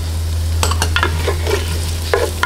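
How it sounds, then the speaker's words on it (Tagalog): Garlic and onion sautéing in a pan for Ilonggo chicken binakol, a soft sizzle under a string of spatula scrapes and clacks, close up with a steady low hum beneath and no talking. "Ayan, gisa-gisahin lang po hanggang mag light brown yung ating bawang."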